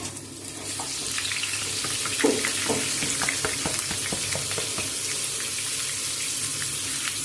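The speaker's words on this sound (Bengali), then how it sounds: "এবার তেজপাতা ঘি এবং সাদা তেলের সংমিশ্রণে গরম হয়ে আছে এবার আমরা চালটাকে আমরা দিয়ে দেব গোবিন্দভোগ চাল" Gobindobhog rice sizzling steadily in hot ghee and oil with bay leaves, a continuous close frying hiss broken by a few scraping stirs, no talking.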